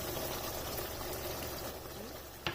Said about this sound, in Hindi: थोड़ा सा पानी डाल मिक्स कर लेना है